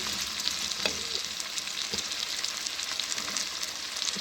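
Chopped cauliflower fries in a pan for a mixed vegetable dish. A close, steady hiss and crackle of sizzling oil carries on without a break, with faint clinks here and there.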